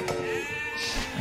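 Sheep bleating in the Age of Empires II strategy game, one clear wavering bleat heard up close and loud over the game's background sound, with no talk.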